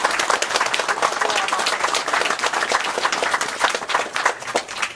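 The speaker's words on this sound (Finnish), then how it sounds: "kaikki vois antaa isot aplodit meidän päkkärille ja tuomareille" A crowd at an award ceremony gives big applause for the organisers and judges: brisk, close clapping from many hands, fairly loud and uneven in texture, continuing throughout without talk.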